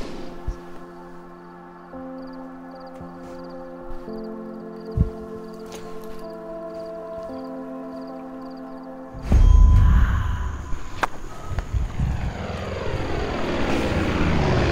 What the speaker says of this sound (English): Why are there always planes?